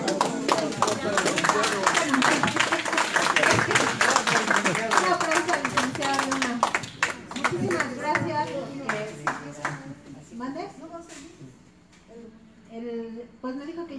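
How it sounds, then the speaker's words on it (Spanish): A small group bursts into brief clapping for someone, mixed with lively chatter and voices that continue over and after the applause, which thins out and fades midway. "un aplauso a Guillén que lo editó"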